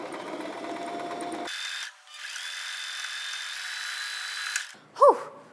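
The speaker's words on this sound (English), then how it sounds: "We just sewed on the back and the front of the collar elastic." A sewing machine stitches collar elastic onto a dress made from a dress shirt, whirring in two steady runs close by with a brief pause between, followed by a short squeak at the end.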